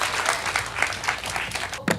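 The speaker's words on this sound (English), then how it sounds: "let's give her a round of applause" Audience clapping at a live storybook stage show of The Princess and the Frog, brisk and continuous for a couple of seconds, fairly close and even.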